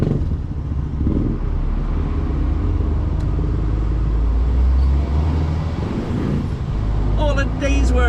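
A car towing a trailer rolls around tight corners with a steady, loud engine and road rumble throughout, close-up from inside, with a brief rattle near the end.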